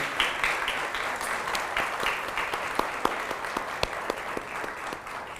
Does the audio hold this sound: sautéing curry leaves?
no